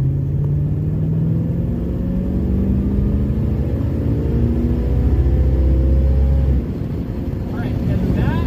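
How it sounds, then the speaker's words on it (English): A 1981 Chrysler Cordoba LS engine rumbles and rises in pitch as it accelerates through gears, loud and close, with a brief drop near the end. "So how does it accelerate here?"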